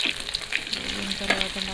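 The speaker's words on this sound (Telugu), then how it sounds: "కరివేపాకు వేసుకోవాలండి. కరివేపాకు కూడా బాగా వేగాలి." Curry leaves frying in hot oil for a radish curry, a steady close crackling sizzle with light scattered pops, no voices.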